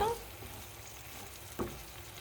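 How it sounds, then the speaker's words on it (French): Food sizzles and simmers steadily in a pan of oil, a soft continuous crackle with one brief clink partway through, close but fairly quiet. "Et ça mijote, ça mijote."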